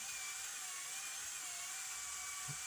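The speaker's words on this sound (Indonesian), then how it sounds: "Saklar bor langsung tekan, kita langsung ngamplasnya dengan cara seperti ini" An electric drill spins a fishing-rod handle made from coconut shell while it is sanded, giving a steady high-pitched motor whine with a constant tone, close and continuous throughout.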